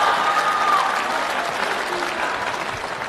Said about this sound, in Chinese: 你听听这掌声。